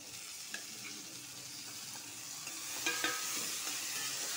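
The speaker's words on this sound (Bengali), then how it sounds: "এটা ভালো করে কাড়া করে ভাজবো" Potatoes coated in salt and turmeric frying in a pan with tomato, giving a steady hiss with scattered spatula scrapes and stirring taps that get louder toward the end, close up with no talking.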